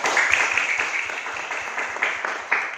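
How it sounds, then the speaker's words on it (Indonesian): Classroom applause for a student group, a quick, dense patter of many students' hands clapping together, fairly loud and close, holding steady throughout. "Tepuk tangan untuk kelompok 3"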